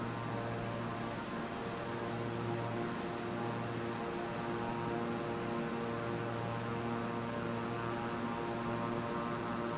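Airplane in Microsoft Flight Simulator just after takeoff, a steady engine drone with a low hum running continuously and evenly throughout, no talk over it.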